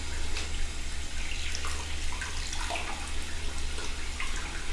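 A faucet pours water continuously into a sink while hands are washed beneath the stream, a constant close splashing rush with small drips and splatters.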